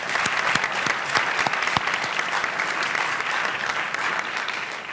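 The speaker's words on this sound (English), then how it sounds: "Let us give them a round of applause." A round of applause for the judges at a startup pitch competition event, a full audience clapping densely and evenly, moderately loud and unbroken by talk.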